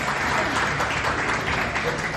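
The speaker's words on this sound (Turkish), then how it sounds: "Tekrar büyük bir alkış bekliyorum" A crowd applauds steadily, dense clapping filling the room at a constant level throughout.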